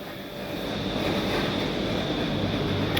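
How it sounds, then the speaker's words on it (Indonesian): Large commercial dishwasher with a built-in drying system, just switched on in a hotel restaurant kitchen in Germany: a loud, unbroken roar of rushing noise over a low mechanical hum, steady throughout with no talking. "Ini baru dinyalain nih, makanya ribut banget nih, berisik"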